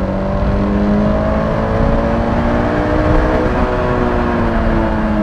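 A Honda S2000 with a 240 hp engine that revs to 9000 rpm and has VTEC runs with a steady, rising engine tone under heavy road rumble, heard from inside the car.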